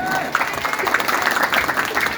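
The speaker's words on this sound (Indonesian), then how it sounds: "Tepuk tangan yang mana tuh?" Applause from a crowd at a religious gathering for orphan charity in a village, steady dense clapping for about two seconds with voices mixed in.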